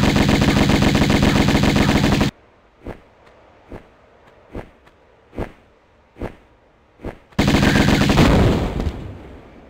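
Gunfire in the video game Tomb Raider Remastered, played with the original graphics: a loud, dense burst of rapid shots, then seven evenly spaced single shots at lower volume, then another loud continuous barrage.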